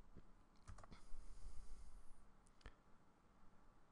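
Keys clatter on a computer keyboard as a search is typed, a quick burst of soft clicks followed by a few isolated taps, faint and close with no voices.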